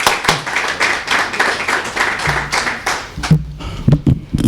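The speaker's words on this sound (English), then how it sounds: "Give him a round of applause, everybody." A crowd applauds for a town mayor at an event against gun violence, steady clapping for several seconds before it thins out into a few scattered claps and stray voices near the end.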